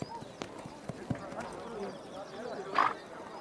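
A young Mongolian stallion's hooves clop irregularly on the ground at moderate distance, with a brief snort or whinny near the end, under a steady outdoor background.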